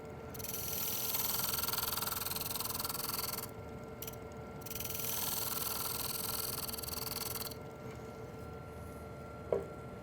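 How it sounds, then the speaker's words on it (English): A wood lathe spins a candlestick blank while a roughing gouge cleans up the base, giving a steady whirring, scraping hum that drops out briefly and then resumes at a moderate level. "I like to take the roughing gouge and just clean up the base a little bit"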